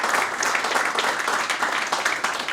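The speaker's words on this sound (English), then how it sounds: "So big applause to Elk Grove Village." An audience at a February 2019 Elk Grove Village business event breaks into dense, sustained applause, many hands clapping loudly and evenly throughout.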